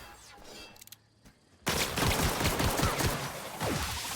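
Shotgun fire in The Outer Worlds game: after a quieter stretch, loud booming blasts burst in and follow one another rapidly for the rest of the moment, dense and close.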